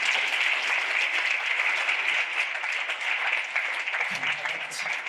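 Audience applause at an evening show episode, steady dense clapping filling the whole stretch at moderate loudness with no talk over it.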